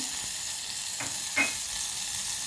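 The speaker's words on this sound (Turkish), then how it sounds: "İlk olarak tereyağımızı tavamıza alıyoruz. Tereyağını tavaya aldım." Butter melting in a frying pan gives a soft, steady sizzle close by, with a couple of faint clinks or stirs partway through and no voices.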